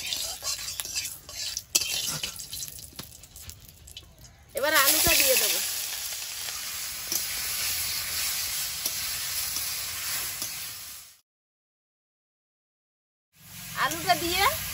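Potato pieces frying in a little oil in a kadai (wok) with whole dried chillies and bay leaf: loud, steady close sizzling with utensil clatter. A brief voice is heard. The sizzle cuts to silence for a moment, then returns.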